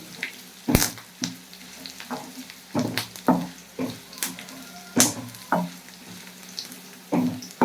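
Dried chillies, garlic, fenugreek, mustard seeds and curry leaves sizzle in hot oil, with a steady crackle broken by sharp pops and spoon scrapes in an irregular rhythm, close up and without speech.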